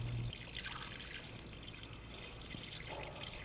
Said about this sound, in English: Now refill the system with a 50-50 mixture of BMW approved coolant and distilled water.